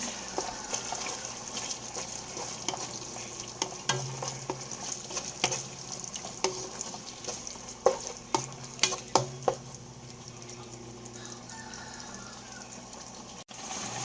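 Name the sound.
stirring carbonara ingredients in a pan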